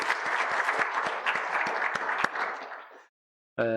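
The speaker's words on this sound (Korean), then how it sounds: "박수로 환영합니다" Church congregation applauding during a Sunday worship service at Samgwang Church, a full, dense round of clapping that fades out after about three seconds, followed by a brief silence and then a tonal sound.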